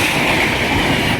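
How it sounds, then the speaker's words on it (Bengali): An express train pulls out of Bally Halt station with a continuous rumbling roar of wheels and carriages close by, steady throughout with no talking. "আর এখন এক্সপ্রেস ট্রেনটা বেরিয়ে গেল"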